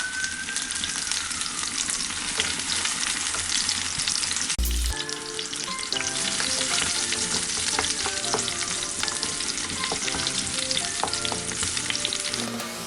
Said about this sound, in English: So they're going to fry off, get lovely and golden and really change flavour.